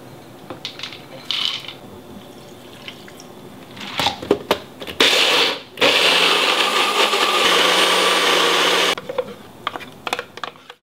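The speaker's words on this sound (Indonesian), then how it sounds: "di blender aja biar gampang" A kitchen blender whirs through a chicken satay marinade of spices and water, starting with a few short bursts and then running as a steady, loud whir for about three seconds before it cuts off. No one speaks.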